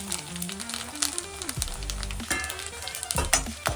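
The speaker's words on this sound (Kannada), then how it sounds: "ಬಾಣಲಿಗೆ ಸ್ವಲ್ಪ ತುಪ್ಪ ಬಿಸಿ ಆದಮೇಲೆ ಇದು ಎಲ್ಲ ಗರಂ ಮಸಾಲ ಹಾಕಿ ಒಂದು ನಿಮಿಷ ಫ್ರೈ ಮಾಡಬೇಕು" Garam masala fries in hot ghee in a pan with a steady close sizzle, while other tones and noises run over it and no one speaks.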